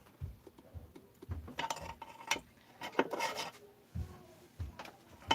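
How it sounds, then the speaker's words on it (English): Grinding on spot welds while pulling apart a steel baffle during a 660 build, heard as repeated short rasping passes with brief pauses between strokes, close and moderately loud with no talking. "I'm just grinding on the spot welds here."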